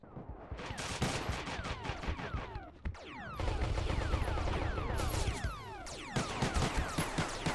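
Pulse weapons fire in the Space Station 14 game during a firefight in a narrow hall, rapid overlapping bursts of sharp zaps with descending sweeps, dense and continuous with a brief gap before firing resumes even heavier.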